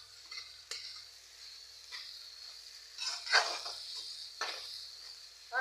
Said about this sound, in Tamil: இப்போ நம்ம வந்து வேக வச்சிருக்கிற இறா போட்டுக்கலாம். இப்போ நல்லா கிளறி விட்டுக்கோங்க